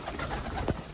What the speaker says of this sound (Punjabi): ਹਰੇ ਸਾਤੇ ਵਾਲੀ ਬੈਠੀ ਹੈ ਕਬੂਤਰੀ